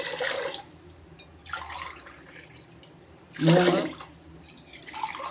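Water is poured in several separate splashing bursts into a pot of raw rice and moong dal being readied for pongal, with quiet gaps between pours and a brief spoken word.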